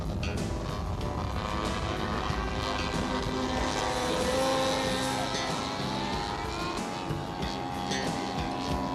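A large radio-controlled Stearman biplane built from a Bob Dively kit, with a 96-inch wingspan and a 4.2 engine turning a 22 by 12 prop, drones steadily overhead at moderate distance with a slowly shifting pitch.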